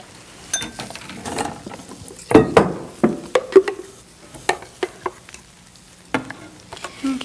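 Spoon scraping and tapping in a kettle on the stove as pie filling with cornstarch is stirred, irregular clinks and scrapes at close range, fairly soft, with no talking.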